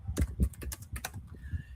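Quiet computer keyboard typing with a quick run of distinct key clicks in an uneven rhythm, heard up close with no voices.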